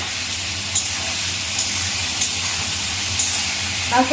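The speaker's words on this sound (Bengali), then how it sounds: "আলু কলাটা ভেজে নিই" Potato and raw banana pieces frying in a pan, a steady hiss and sizzle with a few faint sharp clicks, close and even, ending with a brief clatter.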